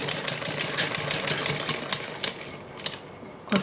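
Sewing machine stitching a salwar cuff (mohri) design, running in short rapid bursts of needle clatter with brief pauses, close and fairly steady.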